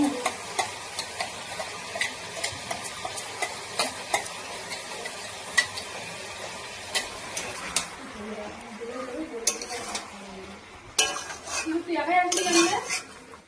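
Spice paste of onion, garlic, ginger and chili frying in a pan, with repeated sharp clinks of a metal spoon stirring against cookware over a soft sizzle that swells louder near the end, close up.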